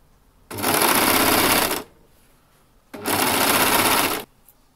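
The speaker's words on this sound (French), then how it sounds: "je tire et bien entendu je vais continuer ma couture" A sewing machine stitches elastic onto a swimsuit in two loud, even bursts of rapid whirring, each lasting over a second, separated by a short quiet pause.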